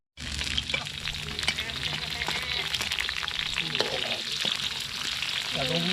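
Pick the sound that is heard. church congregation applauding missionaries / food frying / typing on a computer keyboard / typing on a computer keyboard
food frying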